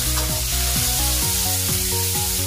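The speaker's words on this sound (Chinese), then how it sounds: "把番茄炒出番茄汁。" Tomatoes stir-frying in a wok with lard, dried chillies, garlic, bird's eye chillies and sour bamboo shoots, giving a steady close sizzle and hiss under loud tonal music, with no talk.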